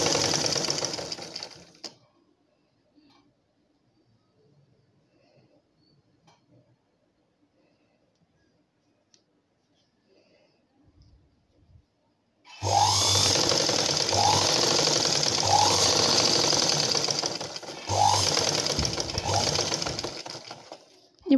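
A sewing machine stitches a blouse, first running briefly, then falling quiet through a long pause before starting again in a loud, close, steady whir lasting several seconds, with small rhythmic changes as the fabric is fed through.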